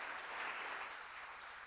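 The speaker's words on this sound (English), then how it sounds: "Can we give him another round of applause, please?" An audience at a Kansas City Oasis talk claps steadily for a speaker in a continuous wash of applause, fairly quiet and distant, without any voices.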